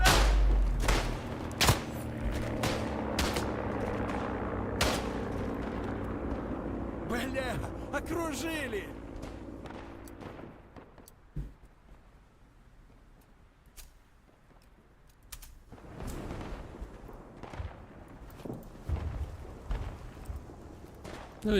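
Machine gun fire in the World War I shooter Tannenberg on the eastern front. Sharp rattling bursts and distant booms are loud at first, then thin out into scattered shots under near-continuous talk.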